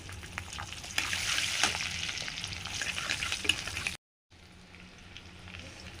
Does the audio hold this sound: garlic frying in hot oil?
yes